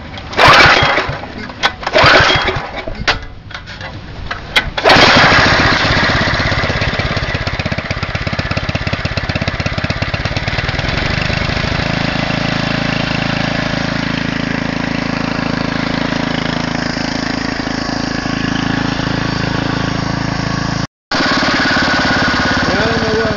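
A small gasoline engine driving a homemade 12V generator starts with a few sputters and bursts, then settles into a steady, loud, continuous running drone that holds for about eighteen seconds with one brief dropout near the end.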